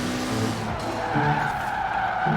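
Tires skid and squeal as a car drifts past a bot-driven rival in Forza Horizon 4, over a loud, steady engine roar. The slide carries on for about two seconds, close by, with no voices.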